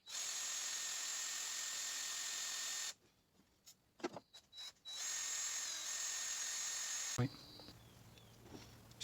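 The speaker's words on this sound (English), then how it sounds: "I think I'm just going to have to old school drill it." A small bit spinning in a power drill, whining loud and steady for about three seconds, then a series of short clicks and bursts, then more steady motor whine before a sharp clunk and a lower hum.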